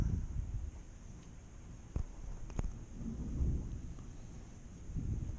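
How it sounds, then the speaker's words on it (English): Thunder rumbles low and heavy through a downpour of rain in a storm, with a couple of sharp cracks and a rolling swell of sound against steady rain noise. "Thundering and lightning and heavy rain."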